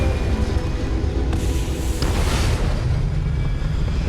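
A spaceship engine in Starfield gives off a steady, dense rumbling roar with a deep low-end drone and a brief whooshing surge midway, loud and constant throughout.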